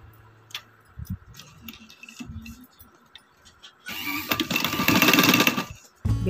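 A sewing machine stitches lace onto a trouser edge, first in short halting bursts with handling clicks, then in a louder sustained run of rapid stitching near the end, close by with no talking.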